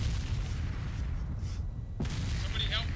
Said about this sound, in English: Mortars! Get down!